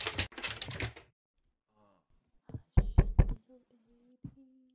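Knocking in a psychological horror video game comes as a quick cluster of sharp, loud raps in the middle, with talk before it and a faint tone afterward.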